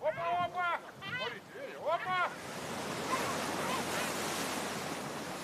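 On board a river ferry, a steady broadband rush of moving water and wind swells and fills the background, preceded by a brief stretch of talk.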